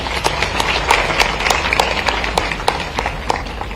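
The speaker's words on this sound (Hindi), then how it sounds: "बहुत अच्छा, ताली वाली मिला दो दोनों के लिए।" An audience of students applauds two classmates at a science outreach event in Bhopal, with sparse, uneven claps in a moderate burst and a faint murmur of voices underneath.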